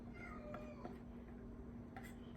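A cat meows a few times indoors in a home kitchen, fairly faint over a steady low hum, with short calls spread across the moment.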